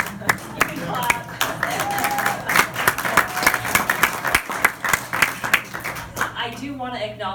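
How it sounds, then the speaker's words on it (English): Audience applause at a city council meeting in Berkeley, many hands clapping steadily in a mid-sized room with a low hum beneath, fading out near the end as a voice comes in. "you can clap."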